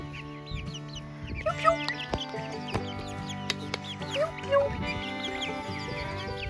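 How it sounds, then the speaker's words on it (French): Young quail chicks, some with trouble walking, peep and cluck in a busy chorus of short high chirps and soft clucks, close and continuous, with scattered rustling in the background. "je vais vous montrer les poussins"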